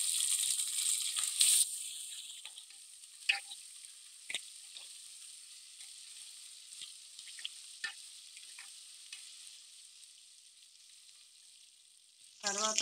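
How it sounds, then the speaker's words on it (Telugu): Ginger garlic paste sizzles in hot oil with well-browned large onions for a mutton paya curry, a steady frying hiss with a few stirring clicks and a louder burst of sizzle near the end. "దీంట్లో అల్లం వెల్లుల్లిపాయ పేస్ట్ వేస్తున్నాను"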